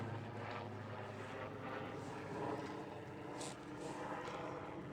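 A helicopter drones steadily overhead, its low rotor thrum and engine whine filling the background without pause.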